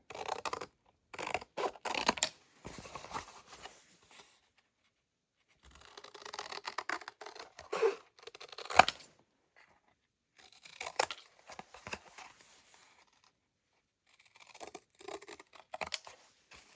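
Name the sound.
cutting spaghetti box cardboard along lines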